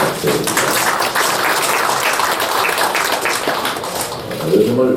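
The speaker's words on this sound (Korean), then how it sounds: "이일영 교수님께 큰 박수 부탁드립니다" Applause rising from the audience at a political discussion forum as a professor is introduced, steady and dense for several seconds, with a voice talking over the clapping.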